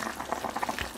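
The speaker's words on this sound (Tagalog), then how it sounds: "Kumukulo na yung karne ng baboy." Pork meat boiling in a pot of water for adobo, a close steady bubbling and gurgling throughout the brief moment, with no talk.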